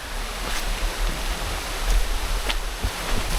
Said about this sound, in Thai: เราเจอน้ำตกแล้วครับ